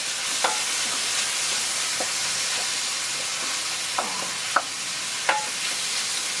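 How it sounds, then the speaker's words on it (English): Vegetables for shakshuka softening in a pan, a steady close sizzle broken by several sharp spoon taps and scrapes against the pan as they are stirred; no speech. "we're gonna cook this for about 10 minutes until the vegetables have softened"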